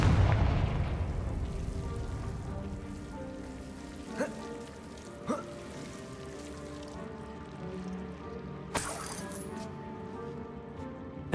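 Confringo fire spell in Hogwarts Legacy sets off a booming explosion at the start, whose rumble decays over a couple of seconds, followed by scattered crackles and a sharper burst amid a quiet, rain-like ambience.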